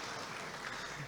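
Applause from an audience at an Islamic primary school graduation ceremony in Yogyakarta, a brief burst of steady, fairly faint clapping.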